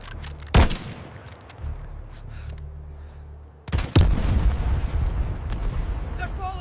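A Normandy 1944 D-Day battle scene rings with gunfire and heavy booms, two sharp blasts standing out before a dense, rumbling barrage continues, with shouted voices mixed in.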